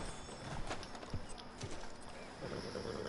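Faint, sparse horse hoof clops in Red Dead Redemption 2, a few soft steps over a steady outdoor ambience, no talking.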